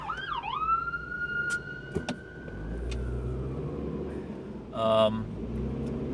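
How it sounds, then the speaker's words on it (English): An ambulance siren wails as it passes, a steady rising-and-falling tone that sweeps up loudly and slowly fades away over outdoor traffic rumble, with a brief burst of other road noise near the end. "ambulance just went by."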